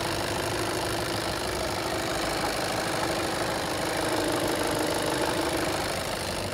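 Steady, even idle of a 2016 Skoda Octavia A7 1.6 diesel engine running without pause, a dense low rumble with a faint rhythmic knock, close up and unchanging throughout.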